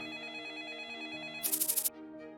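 A telephone in the game Troubleshooter: Abandoned Children gives a short, bright trill of about six quick pulses over sustained background music.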